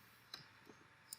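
A single crisp click of an Enter key pressed on a computer keyboard while working in Excel, faint and brief in a quiet room, with a couple of lighter ticks around it.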